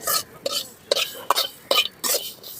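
Rice being dry-roasted in a pan while it is stirred, with about six short scraping sweeps at a steady rhythm, close and fairly clear.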